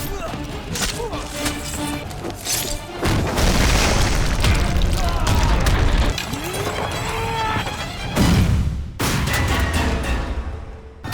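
Cannon blown apart in a battle scene of a war epic: loud booming blasts and bursts of fire over a dense, continuous roar of combat, with a sharp final explosion near the end.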